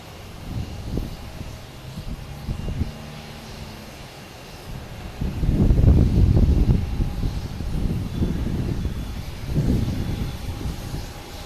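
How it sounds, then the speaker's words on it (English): Delta airliner arriving from Edinburgh at Boston Logan Airport, distant low jet engine rumble that swells and fades in waves, heard outdoors with no talk. "It's Delta Flight 123 coming from Edinburgh, Scotland."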